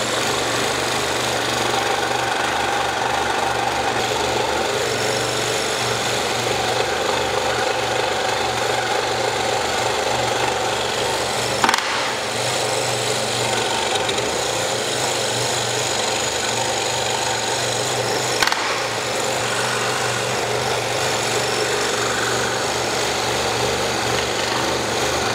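A scroll saw cuts the outline of a wooden star carving with a steady, buzzing reciprocating drone that holds constant throughout, broken by two brief sharp ticks.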